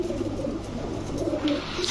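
A green-necked female pigeon coos softly in low, rolling phrases, repeated a few times close by, with faint background noise and no talk.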